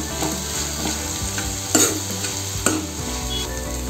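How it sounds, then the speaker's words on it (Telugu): Fenugreek leaves frying in a pan while making chicken fry, a continuous busy sizzle with brisk stirring and a couple of louder clanks of a utensil against the pan, no speech. "కొంచెం మెంతి కూర వేసుకోవాలి వీటిని ఒక two to three minutes fry చేసుకోవాలి"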